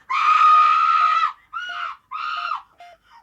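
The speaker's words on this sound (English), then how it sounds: "I scream." A person screams in a long, loud, sustained cry, then gives two shorter screams and a faint final one, alone with no other sound.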